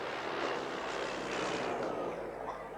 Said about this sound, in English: You can see the plane flying right down the datum line now as it comes down towards the tarmac.